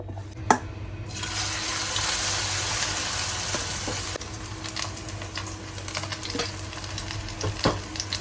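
Chiu Chow loofah batter pancake going into hot oil in a wok: a loud, close hiss of frying swells up, then drops to a steadier, softer sizzle with small crackles, no talking.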